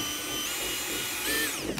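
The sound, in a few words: drilling hole in plastic belly pan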